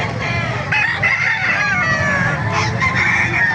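Many chickens cluck and crow at once at a poultry market in Calumpit, Bulacan, loud and close, in a dense, restless chorus with no clear pauses.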